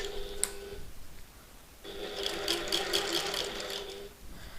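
Domestic sewing machine stitching through the top edge of a button lock sewing project at a 3/8 inch seam allowance, a steady close whirring run that starts after a short pause and keeps going to the end.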